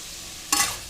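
Crushed garlic with salt being sautéed in a pan for tamarind rice, a brief burst of sizzling and stirring that flares up suddenly midway, loud and close, with no talk.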